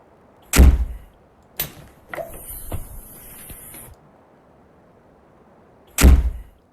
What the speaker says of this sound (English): We can close our door.